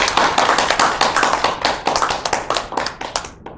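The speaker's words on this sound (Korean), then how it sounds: "이 네 분을 위해서 다시 한번 큰 박수 드리겠습니다" Clapping for four speakers at a professors' press event, a smaller group whose individual claps stand out as sharp, distinct hits in an uneven rhythm, fading out at the end.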